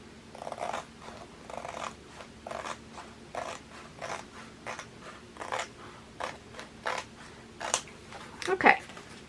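Scissors snip through a diamond painting chart, giving a regular series of soft, close cutting sounds about one per second over a low background hum, with a brief louder rustle near the end.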